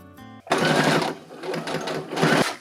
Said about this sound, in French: je vais épingler pour être sûr que mon ourlet ne bouge pas sous la machine. Ensuite je vais coudre à 2 mm de ma pliure.